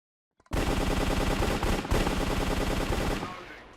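Rapid automatic gunfire in a Minecraft CS:GO-style game rattles loudly and continuously for about three seconds, then trails off into a short fading echo.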